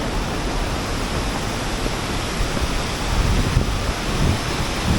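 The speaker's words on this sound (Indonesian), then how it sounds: "ini ada air terjun kecil" Small waterfall near a cave at Goa Putih in Mojokerto, a steady broadband rush of falling water that stays close and even throughout, swelling slightly toward the end, with no voices.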